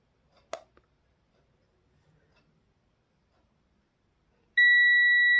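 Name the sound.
multimeter continuity beep testing a mobile phone fuse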